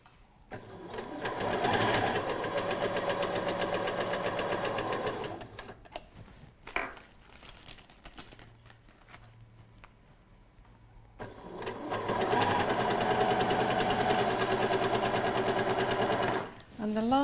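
A sewing machine stitches down an invisible zip seam, running in a loud, steady whir for several seconds, pausing amid small clicks and handling sounds, then running again in a long even burst.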